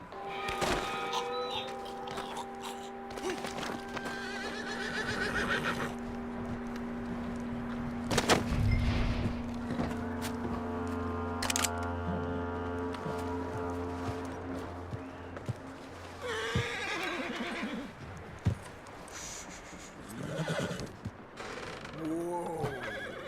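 A horse in the video game Red Dead Redemption 2 neighs and whinnies repeatedly, with clopping hooves, snorts and game ambience around it, loud and close, with brief speech at times.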